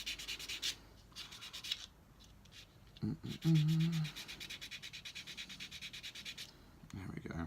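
A sanding sponge scrubs the edges of a plastic part from a 1:9 scale Italeri Manx Norton model kit, giving short, close, rhythmic rasping strokes in quick bursts, with a brief spoken word partway through.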